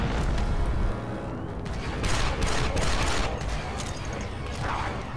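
Blaster fire from the Star Wars Republic Commando video game, with several loud bursts of rapid shots in a row over a constant noisy battle background.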